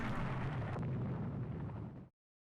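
Naval gunfire shells explode against an enemy warship in the Rule the Waves 3 naval strategy game, a dense, loud roar of blasts that rumbles continuously for about two seconds and then cuts off abruptly.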